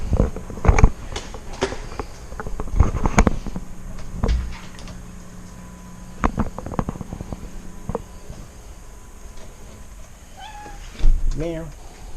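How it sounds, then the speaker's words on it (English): A stray cat being let indoors ahead of a hurricane gives a couple of short meows near the end, after scattered creaks, door and cupboard knocks and handling noises at close range. "How did you get a trained stray cat?"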